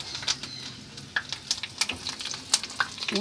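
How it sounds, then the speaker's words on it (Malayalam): Onions frying in a pan as curry leaves go in, a close sizzle broken by irregular sharp pops and crackles, with no one speaking. "ഉള്ളിമൊരിഞ്ഞു വേപ്പിൻ്റെ ഇല ഇടണം"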